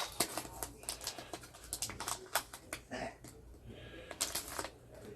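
BattleTech Alpha Strike and pilot cards being handled, with quiet papery flicks and soft taps in an irregular patter, close and faint.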